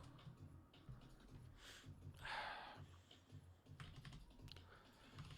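Computer keyboard typing in a quiet room during game design work, a steady run of soft, close clicks with a denser burst partway through and a low murmur underneath.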